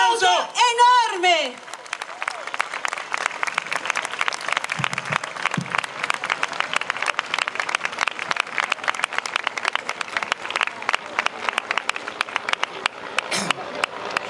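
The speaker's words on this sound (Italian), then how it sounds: "Un applauso enorme!" Audience at a public water rally applauding a speaker's arrival on stage: a brief announcer's voice gives way to dense, sustained clapping that stays loud and even, with a few shouts mixed in.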